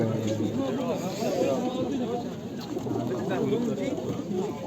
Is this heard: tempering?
no